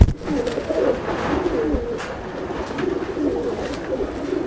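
Chennai breed pigeons coo in a loft, soft repeated throaty coos close by in a gentle rhythm, with faint background noise and no talking.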